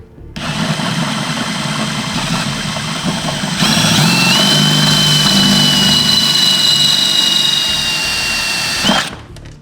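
A power drill whines steadily and loudly for most of the clip as it drills out rivet nuts, its pitch rising partway through as it bites, then cutting off near the end.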